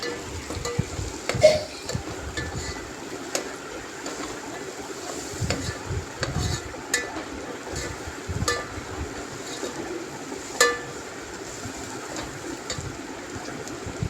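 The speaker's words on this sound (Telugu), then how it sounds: "తగినంత పసుపు వేసుకొని కొంచెం నూనెలో వేగనివ్వాలి" Turmeric frying in a little oil in a pan, a soft continuous sizzle with scattered sharp clicks and spoon scrapes, close and fairly quiet, no voices.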